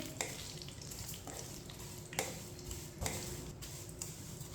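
Broken vermicelli is stirred through hot oil in a pan over medium heat for sweet seviyan. A soft, quiet sizzle runs underneath while a utensil knocks against the pan in a few sharp, irregular clicks.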